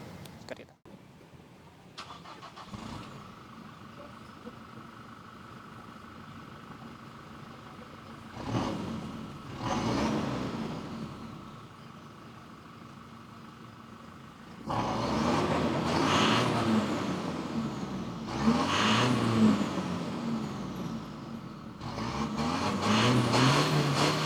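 A modified Toyota Innova Reborn's engine, upgraded to stage 3, cranks and starts, then idles roughly before being revved hard several times, the revs rising and falling with growing loudness.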